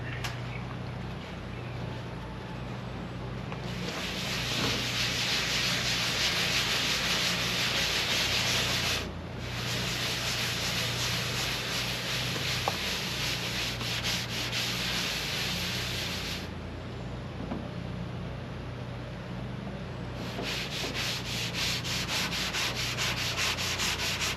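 Scotch-Brite pad scrubbing rusty metal soaked in muriatic acid, a steady abrasive rubbing that runs in long bursts with brief pauses between strokes, close and continuous.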